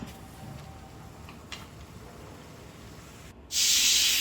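A pressure cooker of vegetable pulav bursts into a loud, steady steam hiss near the end, after several seconds of quiet kitchen background.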